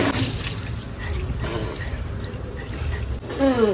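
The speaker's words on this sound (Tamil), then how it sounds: "திரு குளிப்பாடிங்க" Water is poured over a dog during an outdoor bath, a steady splashing and trickling stream that runs without a break for a few seconds.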